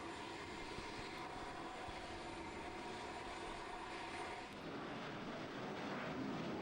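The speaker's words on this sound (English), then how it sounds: "plane took off down the runway" Airplane taking off down a runway, carrying a passenger on a flight toward Orlando from Belize: a steady, loud broadband engine roar that holds throughout with no talk.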